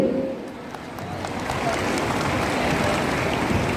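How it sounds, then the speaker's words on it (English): Steady, dense applause from a crowd of parents at a school Founder's Day fills the hall, building slightly and holding at a strong, even level. "Dear parents, please do not stop the applause."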